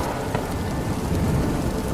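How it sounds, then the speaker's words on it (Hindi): Heavy torrential rain pouring down with a deep rumble of thunder underneath, a dense steady wash of noise, close and continuous with no voices. "पूरी रात मूसलाधार बारिश होती रही"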